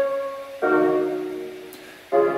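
Synth chord stabs played without equalization: two sharp, loud chord hits, each ringing and slowly decaying, with a brief faint click between them and no voices.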